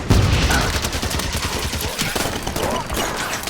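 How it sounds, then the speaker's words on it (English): Heavy, sustained enemy gunfire during a Covenant battle in Halo 5: Guardians, dense continuous volleys with booming low impacts filling the whole stretch, loud and close, with no talk. "Enemy firing from that ledge"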